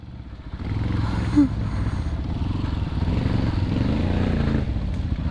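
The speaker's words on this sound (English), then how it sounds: "You're going through my single track with a four-wheeler." A four-wheeler ATV rides along a single-track dirt trail, its engine a close, loud, rough drone that bursts up suddenly, then rises and falls in pitch without any talk.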